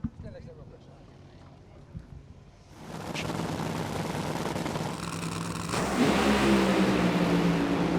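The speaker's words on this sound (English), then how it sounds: "Hagan's car smokes the tires" A Funny Car drag racer at the Arizona Nationals revs and smokes its tires, a loud, rising engine roar building over crowd and track noise, with a commentator talking over it.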